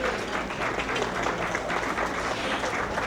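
An audience at an annual fundraiser dinner applauds, dense steady clapping from a large crowd throughout.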